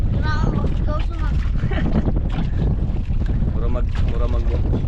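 Strong, steady wind roaring across the microphone throughout, with people talking loudly over it near a boat on open water while fishing.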